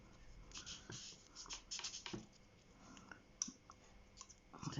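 A sweet pea cutter presses and cuts through sugar paste on a work surface, giving quiet scraping, tapping and clicking sounds in irregular bursts, close and faint.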